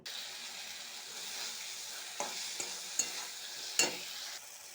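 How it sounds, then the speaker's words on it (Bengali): Chilli powder and salt being stirred into a frying masala for a tangra fish curry, a steady hiss of oil with a few sharp scrapes of a spoon against the pan toward the end. "সব দিয়ে একবারে ভালো করে এবার মিশিয়ে দেবো"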